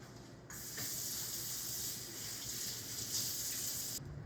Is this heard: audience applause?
no